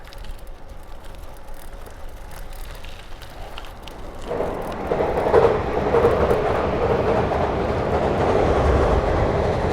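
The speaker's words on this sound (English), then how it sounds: "There goes the train." A train rumbles past with a steady clattering roar that swells louder midway and stays strong, heard outdoors near the Yodo River in Osaka, Japan, without talking.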